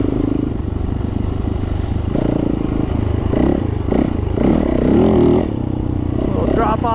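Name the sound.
Yamaha YZ450F dirt bike engine running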